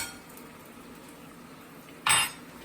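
Metal spoons clink together in a kitchen while breakfast is prepared, a single bright burst of clattering near the end after a stretch of quiet room tone.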